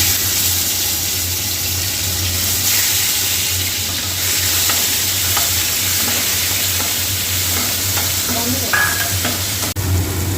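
A spiced paste of ground ginger, garlic, cashew, tomato and onion fries with a steady loud sizzle in a pan, with occasional scraping stirs and light clinks, no talking.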